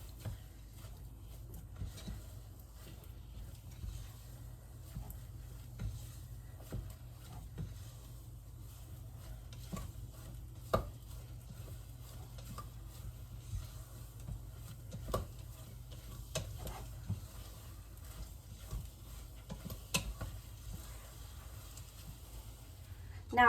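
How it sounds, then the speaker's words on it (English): Choux paste being stirred in a pot over the heat as it dries out, quiet scraping and soft clicks of the spoon at an irregular rhythm over a low steady hum. "we can return it to the heat and cook this until the paste dries out a bit and it begins to stick to the"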